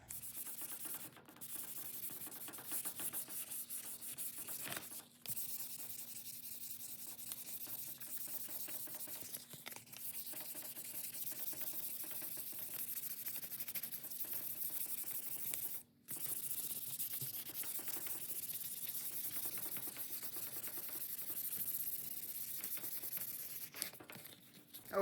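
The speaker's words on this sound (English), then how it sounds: "we're gonna go ahead and sand it with 600 grit" A new car bumper is hand-sanded with 600 grit sandpaper: a continuous, close, scratchy rubbing hiss that runs for the full stretch, with brief pauses near the five and sixteen second marks and no voices.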